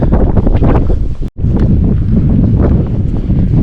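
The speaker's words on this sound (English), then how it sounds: "In the cold wind of Skye." Cold autumn wind on the Isle of Skye buffets the microphone in a loud, continuous roar. The rumbling gusts drop out for a split second before rushing back, with no voices.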